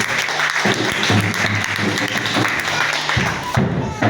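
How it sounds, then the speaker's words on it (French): A church congregation breaks into loud, sustained applause that fills the room, with steady dense clapping and occasional thumps throughout and no clear speech over it. "Acclamez Jésus"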